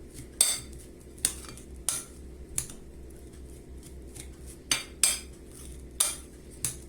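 A spoon clinks and scrapes against a bowl while mashing pepper paste and tomato paste for kısır, a bulgur salad. Sharp metallic taps come at an uneven pace, about nine in seven seconds, over a low background hum.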